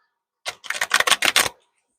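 A quick riffle of shuffled cards: one close, rapid fluttering burst of about a second, with quiet before and after.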